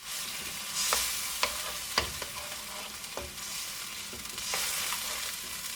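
A chicken paella mixture with added water is stirred in a sizzling pan, with a steady frying hiss and occasional scraping taps of the utensil, close and loud with no talking.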